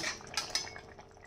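A metal lid clinks onto a cooking pot of Bengali fish curry with vegetables, a couple of quick light metallic taps close by, fairly quiet with no talk.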